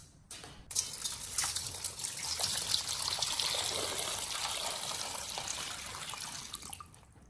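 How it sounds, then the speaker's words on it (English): Water pours steadily into a large basin holding corn cobs, a continuous splashing gush that starts abruptly, holds at an even level for several seconds, then tapers off near the end. "and then filling it with water."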